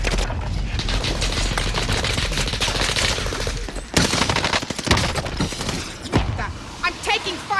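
Rapid gunfire in Call of Duty Warzone, dense sustained automatic bursts with heavy impacts, loud and close, mixed with players talking.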